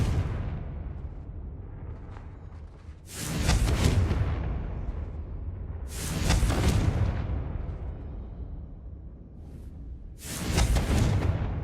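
Spell blasts from Hogwarts Legacy's Confringo go off three times at a few-second intervals, each a loud booming burst that swells and fades into a rumbling tail over low game ambience.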